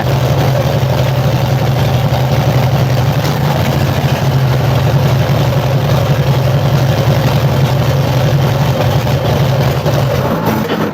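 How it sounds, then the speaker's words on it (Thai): A car engine, fitted with a soft clutch, idles loudly and steadily, a constant low rumble filling the whole stretch with no pause. "รถสตาร์ทเครื่อง จริง ติดจริง"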